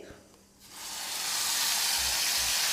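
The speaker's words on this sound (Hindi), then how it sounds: "जीरे को हम चटकने देंगे, आधा चम्मच जीरा है।" Half a spoon of cumin seeds crackling in hot oil in a home kitchen pan, a steady loud sizzle that rises suddenly and then holds.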